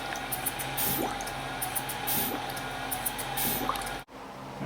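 A Medela Lactina breast pump, replumbed with its valves reversed, draws in water with soft, wet sucking pulses about once a second over a steady motor hum, then cuts off abruptly near the end.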